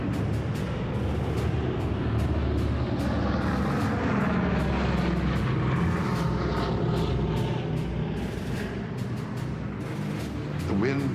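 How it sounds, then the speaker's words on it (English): World War II era aircraft engines run up on an airfield, a dense, steady propeller and engine roar that swells and shifts in pitch, with a voice speaking over the noise. "pilots would start running up their motors. There were 2 squadrons, so there'd be about 30 aircraft warming up."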